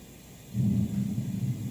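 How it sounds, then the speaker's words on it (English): A thunderstorm recording plays from a Lenovo Smart Display speaker beside a bed. It starts as a quiet hiss, then a deep, steady rolling rumble swells in after about half a second and holds at moderate loudness. "This is the sound of a thunderstorm."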